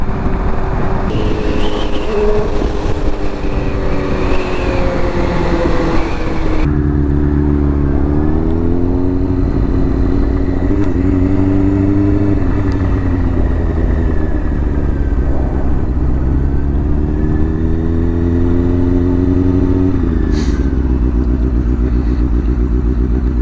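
A Honda F4i sportbike with dual mufflers drones steadily on the highway, loud and close, its engine note rising and falling through throttle changes under constant wind rush, with a sharp clatter near the end.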